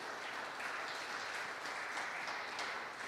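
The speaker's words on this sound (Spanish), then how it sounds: "Dele un aplauso al Señor" Church congregation applauding in praise of the Lord, a dense steady wash of many clapping hands, faint and distant throughout.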